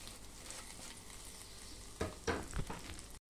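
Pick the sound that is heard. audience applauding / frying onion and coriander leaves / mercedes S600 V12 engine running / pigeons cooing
frying onion and coriander leaves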